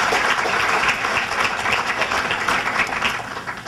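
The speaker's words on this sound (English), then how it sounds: "Let's give them a round of applause." A crowd claps steadily, dense and continuous applause throughout, fairly loud with no talking.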